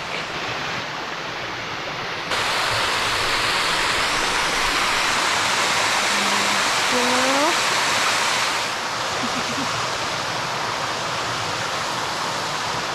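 Roadside waterfall on the Isle of Mull, Scotland, a steady loud rushing roar of falling water that fills the whole span, with a few faint bird chirps over it and no talk.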